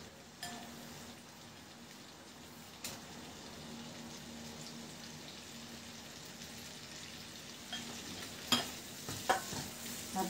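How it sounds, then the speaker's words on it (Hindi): Pieces of paneer frying lightly in a pan with butter, a faint steady sizzle running throughout, with a few soft clicks early on and louder clatters of the pan near the end. "अब हम पनीर के टुकड़े को थोड़ा सा हल्का सा फ्राई करेंगे"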